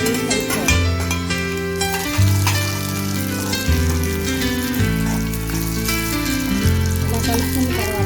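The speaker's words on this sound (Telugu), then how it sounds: "ఉల్లిపాయలు కరివేపాకు వేగిన తర్వాత ఇప్పుడు కాకరకాయ ముక్కలు దీన్ని వేసి కలుపుకోవాలి" Bitter gourd pieces fry in a pan with onions and curry leaves, a continuous soft sizzle running beneath louder background music throughout.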